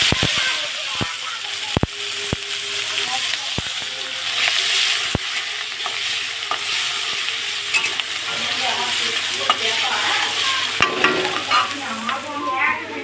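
Onion paste and green chilies hitting a hot pan with oil, a loud, steady sizzling hiss with sharp ladle taps and clacks scattered throughout and faint background voices.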